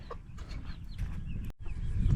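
Weedy backyard chickens, hens and young birds near full size, clucking in a broken, irregular stream close by, with soft farmyard bustle underneath.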